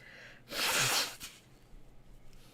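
A single loud sneeze bursts out close by, followed by quiet breathing and faint rustling.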